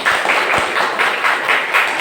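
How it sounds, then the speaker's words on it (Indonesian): Classroom applause for a student who answered, during a lesson on the da'wah strategy of Abu Bakar As-Siddiq: a group claps in a quick, fairly even rhythm for about two seconds, close and loud. "Berikan tepuk tangan untuk temannya yang bisa menjawab."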